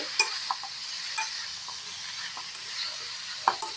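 Banana stem curry is stirred in a pan, with a soft continuous sizzle and scattered light scrapes and clicks of the spoon against the pan, heard close and without talk.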